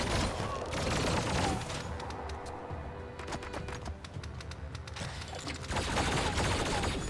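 Machine gun fire in the video game Biomutant, dense rattling bursts of rapid shots layered over busy game noise, loud and continuous with a brief lull in the middle.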